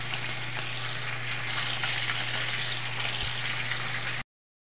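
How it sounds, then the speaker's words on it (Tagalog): Fish frying in hot oil, a steady dense sizzle with a low electric hum underneath, continuous and close for about four seconds before cutting off; no voices. "Ito na yung prito natin. Luto na."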